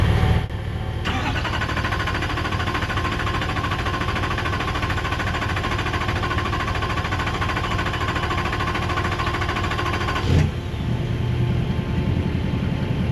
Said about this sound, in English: let's see if she wants to start up